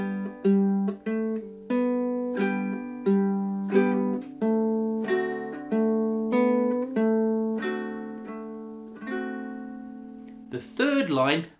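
Baritone ukulele playing the second line of Woody Guthrie's "I Ain't Got No Home", a steady series of strummed chords ringing out one after another, close and clear, ending with a brief rattle of strings.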